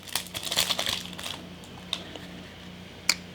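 Packaging of a Yu-Gi-Oh Rokket Revolt structure deck being torn open: close crinkling and crackling of plastic in a busy first second, then sparser rustles and a couple of sharp snaps, with no talk.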